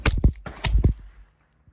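Ruger Mark II pistol firing through a solvent trap used as a suppressor, four quick muffled shots in two pairs, close and sharp, then quiet.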